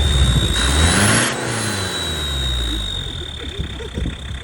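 A car engine turns over and catches, then revs up and settles into a throaty mid-pitched running sound, loud and close.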